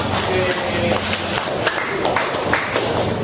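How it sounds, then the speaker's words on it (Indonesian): A classroom of students claps for a group after its presentation, a busy, close patter of many hands with voices mixed into the clapping. "Oke, tepuk tangan dulu untuk kelompoknya"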